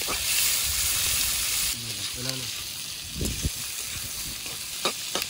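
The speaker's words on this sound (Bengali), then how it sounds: "পেঁয়াজটাকে সবার প্রথমে ব্রাউন করে ভেজে নেব" Chopped onions fry to brown in hot oil at an outdoor village kitchen, a steady bright sizzle that later drops lower, broken by a few brief tonal sounds and clicks.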